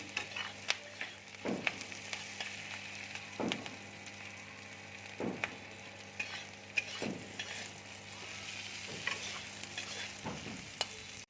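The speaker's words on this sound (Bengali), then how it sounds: "এবার আমি ধনেটা দিয়ে দিচ্ছি, জিরে দিয়ে দিচ্ছি" Coriander and cumin seeds, added after dried red chillies, sizzle in hot oil for an egg curry, a steady crackling frying hiss with several soft stirring scrapes spaced a couple of seconds apart.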